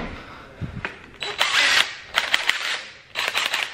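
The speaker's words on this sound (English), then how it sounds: "I guess we're gonna go get a drill, so I guess we're gonna drill" A power drill runs in several short bursts during a Nissan 300ZX side lip install, close and fairly loud, with brief pauses between runs and no talking.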